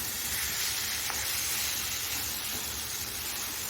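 Lote fish jhuri being stirred and fried dry in a wok, a steady close sizzle and hiss of oil with occasional soft stirring scrapes, no talking.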